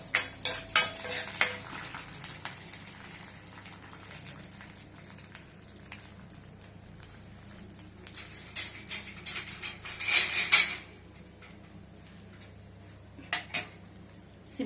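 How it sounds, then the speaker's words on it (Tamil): Urad dal frying in oil in a kadai while a ladle scrapes and clinks against the metal pan, in bursts of stirring with quieter sizzling between, close up and without talk. "இந்த முதல்ல உளுத்தம் பருப்பு நம்ம வறுத்து எடுத்துக்கலாம்."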